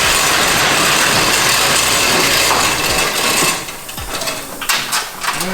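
Nissan R34 Skyline with a new Z-tune style exhaust running, a loud close rumbling engine note that holds steady then eases off slightly near the end.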